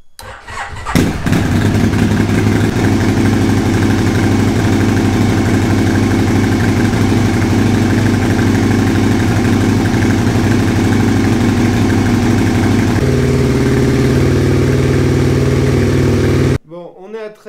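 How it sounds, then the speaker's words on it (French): An Aprilia RSV1000 motorcycle engine cranks and fires at about one second, then idles loudly and steadily, with a shift to a lower, smoother idle near thirteen seconds before cutting off at the end. "On va démarrer le moteur"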